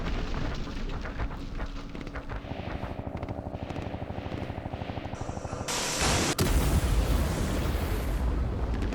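Missile strike in the war game Campaign Series Vietnam: a rumbling whir like rotor noise builds steadily, then a sudden loud roaring blast of broadband noise takes over and holds.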